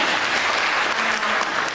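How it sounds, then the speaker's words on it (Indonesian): A short burst of constant, full applause from a seated audience, even and sustained throughout, with a faint voice low underneath. "tepuk tangan"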